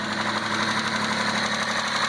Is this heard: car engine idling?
yes